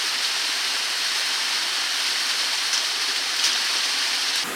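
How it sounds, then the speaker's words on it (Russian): Steady broadband rush of water trickling and seeping down rock faces in a gorge, continuous and close, with no voices over it. "Вода со скалы сочится повсюду"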